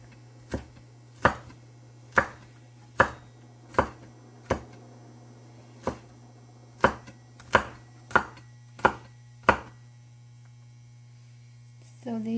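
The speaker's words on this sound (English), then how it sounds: "you may have to do a little bit more chopping." A knife chops ginger on a cutting board in about a dozen sharp, evenly spaced strikes, close and distinct over a steady electrical hum, with a brief rustle at the very end.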